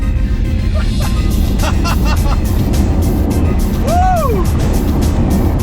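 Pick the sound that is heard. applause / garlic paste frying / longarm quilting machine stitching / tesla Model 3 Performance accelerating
tesla Model 3 Performance accelerating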